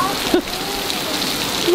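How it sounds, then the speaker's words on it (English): Heavy rain pours steadily onto surfaces during a severe thunderstorm, a dense constant hiss close by, with brief faint voice sounds over it. "We needed this rain."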